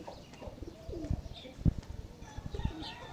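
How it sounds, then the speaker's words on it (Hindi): A pigeon coos in a cage at a small zoo, low soft calls in a few short bursts, faint and close over quiet background noise. "मेरे ख्याल में वो कबूतर है।"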